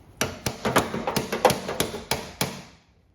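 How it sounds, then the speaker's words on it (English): Sharp metallic taps of a hammer striking the side of pliers in a quick, uneven series of about ten hits, close and clear, with a short ring after each, while working on a Chevrolet C10 truck. "you can hit the side of those pliers with a hammer"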